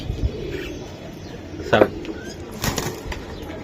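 A brief flutter of Giribaz pigeon wings and soft cooing nearby, with a second burst of flapping a moment later.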